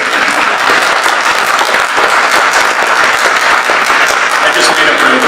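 An audience claps loudly and continuously, a dense, close wash of applause that holds at full strength throughout.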